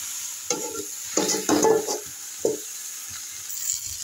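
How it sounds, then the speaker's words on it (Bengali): Khoira fish and vegetables being stirred in a pan, with a few distinct scraping and clattering strokes against a soft background sizzle, spaced irregularly and close up. "এটাকে একটু নেড়ে আমি এবার এটাকে ঢাকা দিয়ে দিচ্ছি।"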